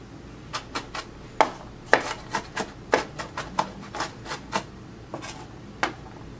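A Japanese high-carbon stainless steel chef knife chopping onions on a board, a run of sharp close cuts in an uneven, quickening rhythm with some louder strikes, no voices.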